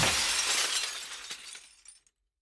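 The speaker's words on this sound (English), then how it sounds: "The sound of shattering glass wrenches me awake" A pane of glass shattering loudly up close, with a bright crash that breaks into tinkling shards and fades to silence within two seconds.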